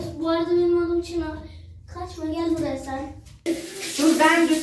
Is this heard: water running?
yes